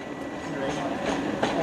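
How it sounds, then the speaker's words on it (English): Thameslink train moving through Brighton station, a steady rumbling rail sound with faint rhythmic clicks, fairly close, with a little station background noise. "And here's your Thameslink service."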